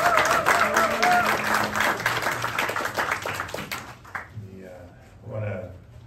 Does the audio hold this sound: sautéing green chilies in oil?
no